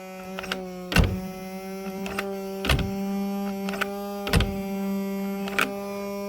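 A Paslode IM65A angled second-fix nail gun has its motor start without firing, leaving a steady electric hum under several sharp clicks and knocks that land close by at irregular intervals, with no speech.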